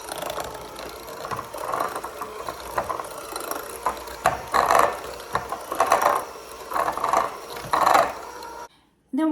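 Brown and granulated sugar being mixed into oatmeal chocolate chip cookie dough, a steady whirring, rattling mixer sound in uneven surges over about nine seconds, moderately loud and close, with no talking.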